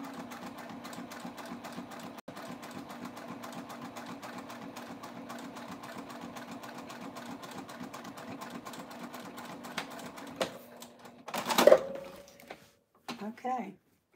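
A sewing machine fitted with a Teflon foot hums along steadily for several seconds, the kind of setup used on bag vinyl or leather, then stops; a few brief clatters and handling noises follow near the end.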